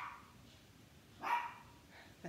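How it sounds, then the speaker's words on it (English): A dog barks outdoors at elk: two short, faint barks, the first about midway and a quieter one at the very end, over a low, quiet background. "The elk are outside, so she's probably barking at them."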